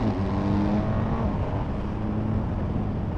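BMW GS 1200 and GS 1250 motorcycles accelerating hard in second gear, a steady, close engine roar that holds loud for a few seconds with no talk over it.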